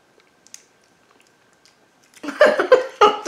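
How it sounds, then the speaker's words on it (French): Crunchy biting and chewing of food during a tasting, a quiet lead-in followed by loud close crunches in rapid bursts near the mouth. "T'as croqué un gros bout."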